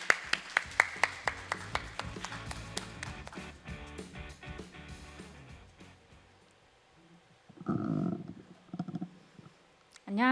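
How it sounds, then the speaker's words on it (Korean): An audience at a library workshop presentation claps to welcome a speaker, crisp individual claps in a quick, even run that thins and fades over several seconds before a brief voice and a rustle near the end. "여러분 큰 박수로 맞아주시기 바랍니다"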